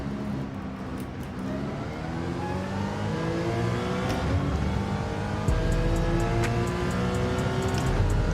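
Porsche Cayman race car in Gran Turismo 7, its engine revving loudly and steadily climbing through the gears, a sustained close-up drone with shifts in pitch and no talking.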